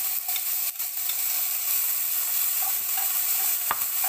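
Bacon sizzles in a pan with a continuous bright crackling hiss, while occasional scraping clicks mark it being stirred.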